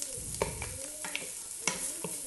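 Onion softening in oil in a pressure cooker with a cinnamon stick, dried lemon and garlic cloves, a gentle close sizzle with a few quick stirring scrapes and taps across a brief moment.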